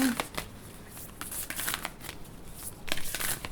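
Tarot cards riffled and shuffled by hand, then single cards drawn from the top of the deck; soft, close papery flutters and flicks recur in short bursts across the quiet.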